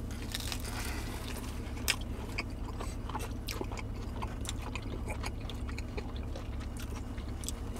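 Crisp bites and chewing crunch into a clam tomato pie pizza, scattered quiet crackles over a low background hum.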